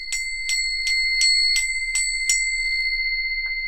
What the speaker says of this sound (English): Collection of bells, and I'll just ring them